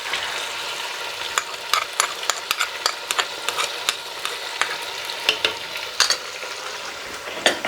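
Garlic and ginger paste frying in a pan with mutton, a steady close sizzle broken by scattered crackles and stirring scrapes, with no talking.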